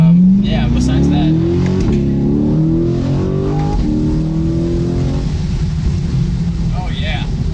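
A C8 Corvette accelerating hard, its engine note climbing in pitch and dropping sharply at quick, hard gear shifts, loud and close from inside the cabin, with people talking over it.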